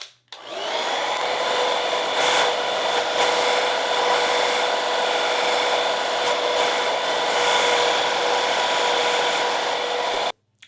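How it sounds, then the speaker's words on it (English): A hair dryer runs steadily for about ten seconds, blow-drying hair styled with a grooming product. It blows loud and close with a constant whine and rushing air, starting and stopping cleanly at either end. "I'm going to go ahead and blow dry in the same manner as I did before."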